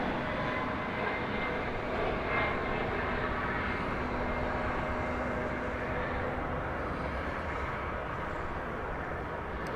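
A 20-year-old UPS Airbus A300 on arrival at DFW Airport gives a continuous broad engine roar with a faint steady whine running through it, constant in level and free of talk.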